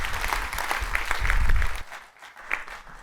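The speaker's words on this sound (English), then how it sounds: "A round of applause for Georgia." An audience applauds a Three Minute Thesis speaker with dense clapping that swells, then fades sharply partway through, leaving only a few scattered claps.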